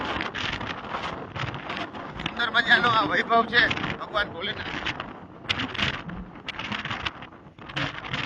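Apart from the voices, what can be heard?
wind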